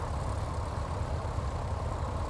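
Just after start, the left engine of a Piper PA44 twin light aircraft idles in a steady, low, even rumble with no other sounds.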